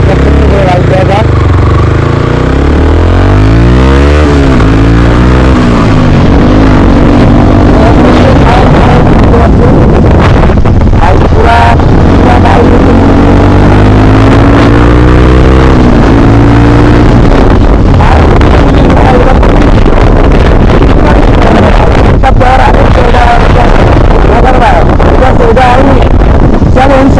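Heavily modified Yamaha R15 V3 motorcycle revs loudly while ridden, its engine pitch sweeping up and down through gear changes under strong wind buffeting on the microphone.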